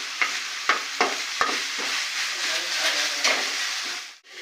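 Snack pieces frying lightly in a pan, a steady soft sizzle broken by several sharp stirring clicks and scrapes, close and moderately loud.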